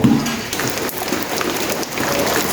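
Steady rain falls and patters on surfaces in a dense, even hiss, with scattered louder drops and no voices.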